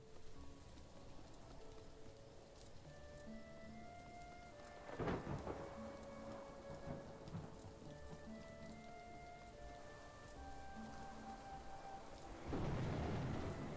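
Steady rain and rumbling thunder in the video game Little Goody Two Shoes, a constant wash of rainfall with two loud thunderclaps, one near the middle and another at the end, over faint music tones.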